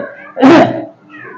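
A single loud, drawn-out cat meow rises sharply close by, with a faint voice before and after it.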